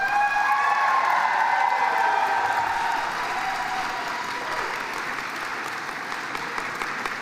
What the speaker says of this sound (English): reciprocate by applauding your family, friends, faculty, and staff